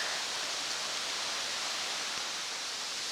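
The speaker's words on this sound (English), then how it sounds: "I can hear the water and see the water." Waterfall pouring on a hiking trail near the Twin Lakes in Negros Oriental, a steady broadband rush of falling water, constant and fairly loud with no voices.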